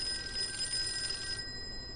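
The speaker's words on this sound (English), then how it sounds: "Ah, you got a phone call." A telephone rings in the video game Call of Cthulhu with a steady electronic trill. The ring is moderately loud and continuous, then cuts off about three-quarters of the way through.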